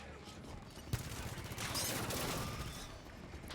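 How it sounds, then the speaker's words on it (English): Automatic turrets in the video game Halo open fire, a sustained rattling barrage with a sharp burst near the start, continuous and fairly loud against game ambience. "Turrets on and firing."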